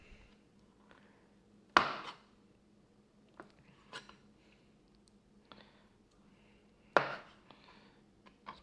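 Knife chopping ingredients for hot and sour soup on a cutting board, a few sparse sharp chops with quiet gaps between them.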